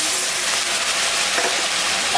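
Fish head frying in a pan hisses and crackles in a steady, loud, close sizzle as a little water is added, broadband spatter continuing without pause and no voices.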